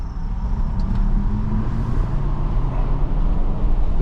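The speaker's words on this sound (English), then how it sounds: "A quick acceleration for y'all here." A 2026 GMC Hummer 3X SUV with adaptive air suspension accelerates hard, a steady, loud low rumble and road roar with rising wind noise, heard from inside the cabin with no talking.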